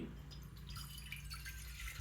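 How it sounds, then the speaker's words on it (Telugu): About half a litre of water poured into a kadai on a lit stove, a steady trickling and dripping stream under a constant low hum, faint and close. "అర లీటర్ వరకు నీళ్లు పోస్తున్నాను"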